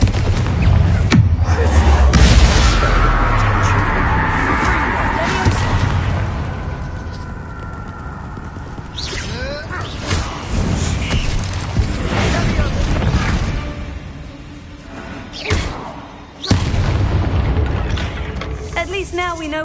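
A Confringo blasting spell goes off inside a tomb in Hogwarts Legacy, a loud booming burst with rumbling debris, followed by further crashes and thuds amid game ambience and voices.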